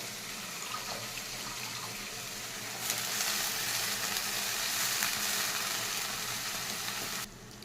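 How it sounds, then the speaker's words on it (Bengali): Water spinach drops into hot oil tempered with black cumin and dried red chillies, giving a steady close sizzle that swells louder partway through and cuts off abruptly near the end, with no voices. "এবার দিয়ে দিচ্ছি কলমি শাকগুলোকে"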